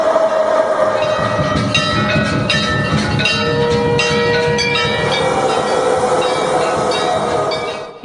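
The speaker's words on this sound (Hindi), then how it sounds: "और ये लीजिए मेट्रो आने वाली है।" A metro train rolls in loudly and steadily over eight seconds, with rumbling wheels and clattering rail noise filling the whole clip and faint squeals on top, used as a sound effect on an election-results news broadcast.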